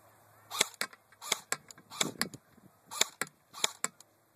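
Airsoft JG M4 rifle firing 0.2 gram BBs on semi-automatic outdoors, about a dozen sharp snapping shots in loose pairs and singles over four seconds, close and clear with no talking.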